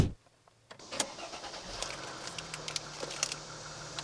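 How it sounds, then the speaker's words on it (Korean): A car engine cranks and catches after a quiet moment, then settles into a steady low idle with small clicks and rattles, recorded close and fairly quiet. "시동 걸어야지"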